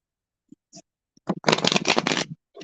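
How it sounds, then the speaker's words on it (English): A deck of cards is shuffled for a spiritual card reading. A few soft taps lead into a dense, close riffling burst lasting about a second. "So I'm going to shuffle the deck."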